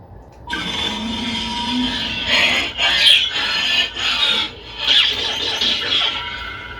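A humming Kyberlight V5 lightsaber sound font buzzes steadily with several swelling swooshes and crackling surges, close and fairly loud, no speech.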